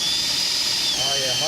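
A cordless drill fitted with a freshly sharpened bit whines steadily at high speed as it bores into material, close and loud, with a voice briefly heard over it near the end.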